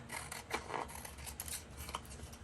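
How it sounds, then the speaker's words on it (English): A cheap pair of scissors trims around a paper tag in a few quiet, close snips and rustles of paper. "So I'll just use a cheap pair of scissors"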